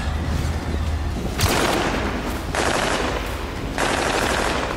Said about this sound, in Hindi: इस दौरान हमास लड़ाकों और इसराइली सैनिकों के बीच जमकर गोलीबारी हुई।